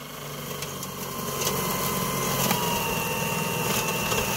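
A gasoline lawnmower engine turned by a power drill during a conversion to electric: a steady, loud mechanical whir and rattle that grows slightly stronger after the first second and then holds without a break.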